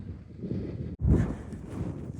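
Gusty wind sweeps across an open moorland path on the Pennine Way near Edale under sunny skies, a low buffeting rumble that drops out briefly near one second, then surges back stronger and settles into a steady roar.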